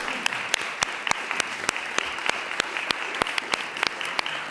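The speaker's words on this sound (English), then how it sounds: "Give yourself a round of applause, and you can really clap now." Sparse, crisp handclaps ring out at a New York City Council hearing, a small audience clapping steadily for several seconds with no voices over it.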